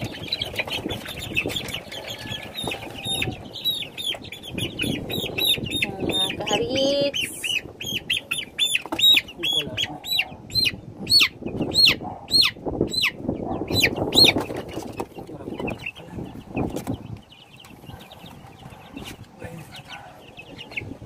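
Chickens cluck and chirp continuously, with a dense mix of high peeps and wing flaps from a flock nearby.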